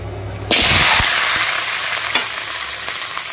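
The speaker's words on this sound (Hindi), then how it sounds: "देखते टिके फुटण पकईदेली ए पर टे जस्ट 1 मिनिट फ्राए करदे" Spices drop into hot oil in a pan and burst into a loud, steady sizzle that starts abruptly and continues, with a few faint pops and crackles.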